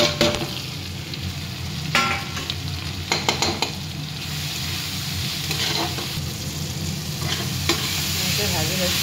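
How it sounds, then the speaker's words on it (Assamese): Pabhoi fish pieces frying in a pan with salt and turmeric, a steady close sizzle broken by several sharp stirring scrapes and clatters, no talking. "এনেকৈ ভাজি লৈছোঁ মই।"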